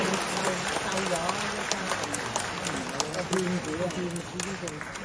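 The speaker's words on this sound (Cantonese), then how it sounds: "再一次俾掌聲" Sustained applause from an audience at a charity Cantonese opera gala in a theatre, honouring an opera troupe, steady dense clapping throughout with a host's voice and crowd murmur mixed underneath.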